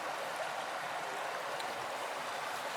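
Water boiling over a camp stove during a solo hike in Finnish Lapland, a steady rushing, bubbling hiss that stays even and close throughout with no voices.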